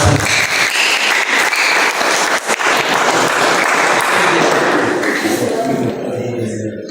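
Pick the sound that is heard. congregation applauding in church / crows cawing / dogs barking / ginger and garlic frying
congregation applauding in church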